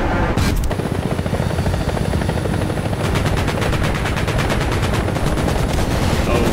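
In the War Thunder combat game, a helicopter's rotor thrums beneath rapid bursts of cannon and machine-gun fire from a jet and a helicopter, loud and close, with fast rattling volleys running almost throughout.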